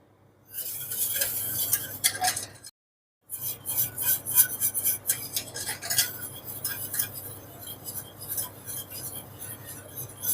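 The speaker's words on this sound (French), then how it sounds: "vous remuez tout le long de la cuisson" Cream filling for a strawberry tart being stirred steadily in a pan on the heat, a continuous scraping and clinking of the utensil against the pan that breaks off briefly, then resumes.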